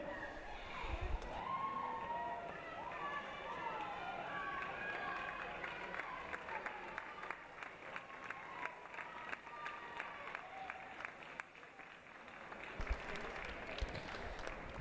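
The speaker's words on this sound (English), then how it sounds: "Let's cheer our swimmers in." A crowd at an indoor swim meet claps and cheers swimmers toward the finish, a continuous reverberant wash of applause and shouting with rapid clap patter throughout, moderately distant in a large echoey pool hall.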